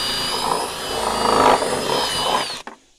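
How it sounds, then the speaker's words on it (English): A power drill bores a hole through a thick plastic reel, around a quarter inch of plastic, for a raised garden bed: a steady, loud, close whine for about two and a half seconds, then it stops abruptly. "I drill my hole in there"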